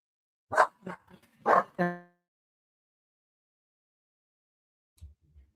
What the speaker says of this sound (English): he always barks when I bring up the dog